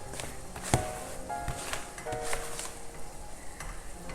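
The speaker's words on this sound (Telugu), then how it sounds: "ఇది బాగా మిక్స్ చేసేసుకోవాలి, పిండి కలర్ అన్నీ కలిసేలాగా." Flour dough with food colouring stirred together in a bowl, producing soft, irregular scraping and slapping sounds with a few sharper knocks, close and fairly quiet.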